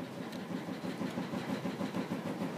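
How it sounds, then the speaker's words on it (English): A household washing machine runs steadily in the background, a faint, continuous low rumble with a slight rhythmic churning and no talk over it. "Sorry if you can hear my washing machine going, it's laundry day."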